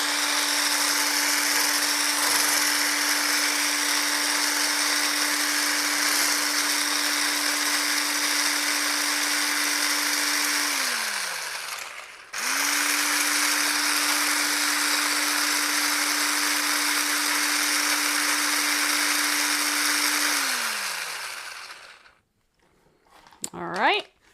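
Vanilla protein ice cream base whirring in a blender or mixer: a loud steady motor hum runs for about ten seconds, winds down, starts again for another run, then stops with a brief rustle.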